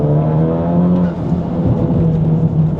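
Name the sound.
turbocharged car accelerating in second gear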